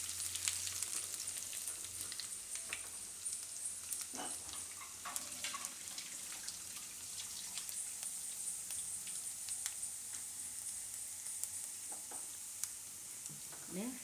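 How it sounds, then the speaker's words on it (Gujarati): Cumin seeds and garlic frying in hot oil in a home kitchen pan, a steady soft sizzle with occasional stirring clicks and scrapes, close but quiet, without talk. "એમાં આપણે પહેલાં નાખીશું જીરું અને લસણ. લસણને થોડુંક લાલ થવા દેવું."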